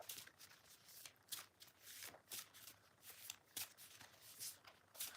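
A deck of emotion cards is shuffled, with soft, quick riffling flutters repeating in a steady rhythm, quiet and close.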